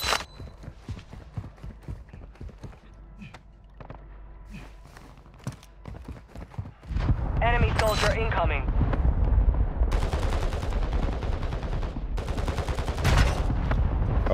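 Gunfire in the video game Warzone: scattered sharp shots and clatter over a low rumble at first, then a loud, sustained burst of rapid fire and blasts with voices talking underneath.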